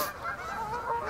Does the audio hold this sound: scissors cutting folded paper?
no